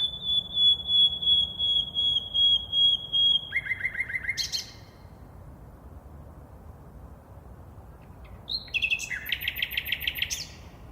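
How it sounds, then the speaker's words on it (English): Nightingales sing at night in Berlin: clear, whistled phrases and rapid repeated chirps ring out in two bursts, separated by a quiet pause over faint urban background hum. "there are thousands of nightingales singing in Berlin during April and May"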